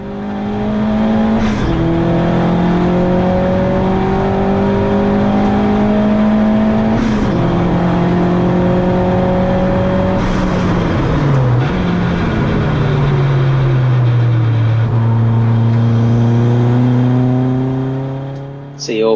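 A Peugeot racing at Donington in a CSCC Turbo Tin Tops race is heard from onboard: a loud, close engine climbs through the revs, drops at each gear change and climbs again, with rival cars in the mix.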